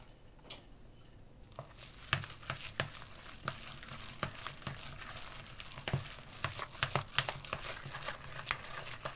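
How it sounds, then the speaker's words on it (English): Dumpling filling of prawns, chopped coriander and sesame oil being stirred and mixed in a bowl, a steady wet, sticky churning with repeated soft slaps and scrapes, close and fairly quiet, no voices. "You want to keep mixing until everything is smooth and sticky."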